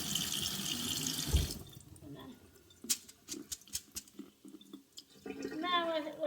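Water runs from a kitchen faucet into a sink as rice is rinsed, with a steady flow at first, then a pause and intermittent splashes and drips before the stream returns.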